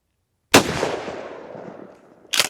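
A single loud gunshot from a 9-inch PSA 570 short-barreled shotgun fired from the hip, a sharp blast ringing out with a long decaying tail, followed by a second loud crack near the end.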